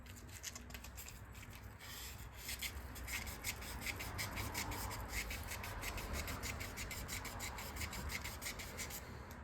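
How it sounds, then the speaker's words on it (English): A carburetor needle is rubbed with light sandpaper to strip varnish. The rasping strokes are quick and rhythmic, faint and close up, and run steadily throughout with no talk. "I'm going to just clean up the needle here with some light sandpaper"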